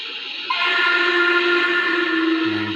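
Whistle on a VISION Class A model steam locomotive, one steady, bright, sustained tone sounding close and alone for about two seconds, then a lower hum at the end.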